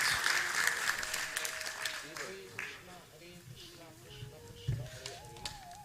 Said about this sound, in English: Can we have a generous round of applause to thank them